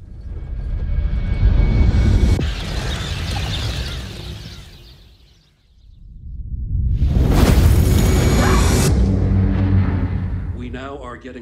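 Meteor fragment strikes Central Florida in a disaster movie trailer, a loud rumbling swell that fades and then surges back into a huge roaring blast and long rolling rumble, with a whooshing high rush on top.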